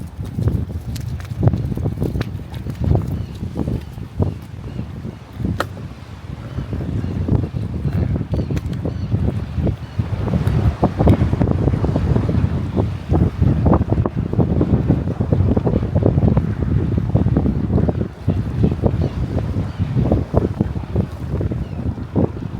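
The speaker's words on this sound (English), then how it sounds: "It's really windy. Having a lot of wind probably helps." Strong wind on the Atlantic City shore the day after a hurricane buffets the microphone in loud, continuous gusts with rumbling low roar throughout.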